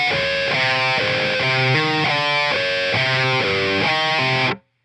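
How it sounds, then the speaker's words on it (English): A heavily distorted electric guitar plays a choppy, rhythmic riff of repeated chugging notes with squealing pinch harmonics, loud and up close, stopping abruptly at the end. "you hear that weird part right after that with like all the pinch harmonics on there"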